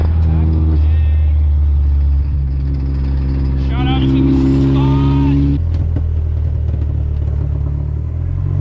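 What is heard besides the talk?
car doing a burnout, engine revving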